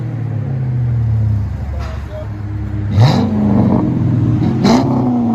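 Chrysler 300C with a 5.7 HEMI V8 and Carven exhaust, a deep idle rumble broken by two quick loud revs that rise and fall, heard from inside the car with someone talking.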